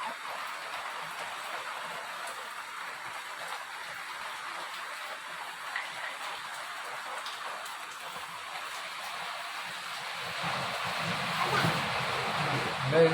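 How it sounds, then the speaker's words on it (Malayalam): Monsoon rain falls as a soft, steady hiss that swells a little louder toward the end, heard from indoors with no other clear sounds. "മഴക്കാലമല്ലേ,"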